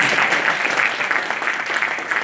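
A large crowd at the inauguration of a textile fabric expo claps together in a loud, dense, continuous wash of applause that stays steady without breaks.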